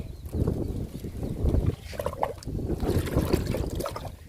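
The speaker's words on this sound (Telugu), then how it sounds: "లిక్విడ్ ఇస్తున్నా విరజాజికి" Liquid trickles and splashes steadily onto a jasmine plant growing in a garden pot, a continuous moderately loud pour lasting several seconds with no talking.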